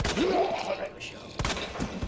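Gunfire in Resident Evil 2, a few sharp handgun shots cracking out at a quick pace, with brief pauses between them.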